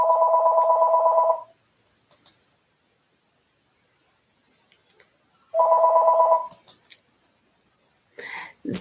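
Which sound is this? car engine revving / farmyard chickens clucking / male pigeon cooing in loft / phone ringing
phone ringing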